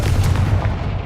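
Booming explosive blast of the Confringo fire spell in the video game Hogwarts Legacy, a dense low rumble that holds steady and loud for about a second, with no talk over it.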